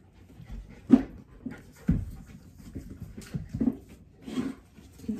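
Four-week-old puppies pant in short breathy bursts, with several louder huffs and whimpery sounds spaced irregularly, close by and with no talking.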